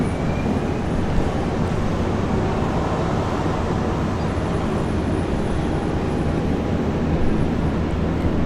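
A Jetstar airliner passes over on its way to Auckland near Brisbane International Airport, a steady broad roar at moderate level that holds evenly from start to finish with no voices.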